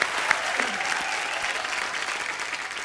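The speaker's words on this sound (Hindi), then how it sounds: "इस बात के लिए जोरदार तालियां।" Studio audience at a Kapil Sharma Show taping clapping warmly for an actor, a steady burst of applause at moderate level that tapers slightly toward the end.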